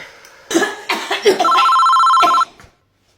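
A telephone rings with one steady electronic tone lasting about a second, loud and close, after a few brief coughs and throat-clearing sounds.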